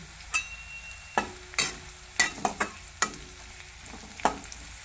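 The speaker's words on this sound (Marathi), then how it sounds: "कढीपत्त्याची पानं चांगली परतून झाली" Curry leaves and potatoes fry in a pan with ginger and garlic, under a low sizzle broken by about a dozen sharp, irregular scrapes and clacks of a spatula stirring close up; no one speaks.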